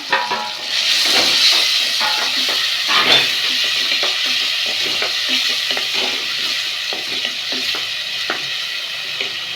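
Tomatoes sautéing in a pan for a country chicken curry, giving a steady, close sizzle with scraping stir strokes throughout and no talking.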